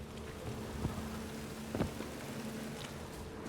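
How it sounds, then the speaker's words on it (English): Steady rain in The Witcher 3 hisses evenly throughout, with a couple of soft low thumps breaking through the constant patter. "And it's raining again."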